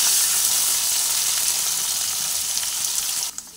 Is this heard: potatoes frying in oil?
yes